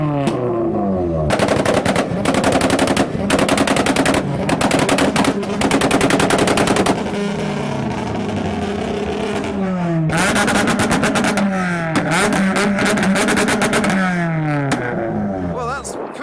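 A Honda Civic's exhaust cracks out rapid, loud bursts of popping backfire bangs like gunfire over a revving engine, the volleys coming in clusters separated by brief lulls of engine drone.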